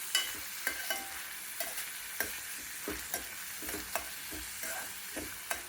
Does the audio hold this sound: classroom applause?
no